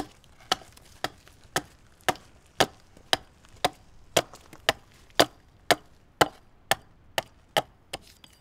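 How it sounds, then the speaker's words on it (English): A tool hacks at the end of a wooden shave horse, sixteen or so sharp woody chops at a steady half-second beat, close and clear with no talk. "we've got to hack this end out at a little bit of an angle"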